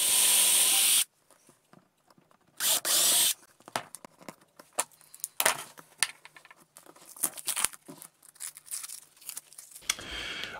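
A drill bores registration holes through a guitar fretboard held in position during a neck build, giving two short, loud whirring bursts separated by a pause, followed by quieter clicks and handling noises.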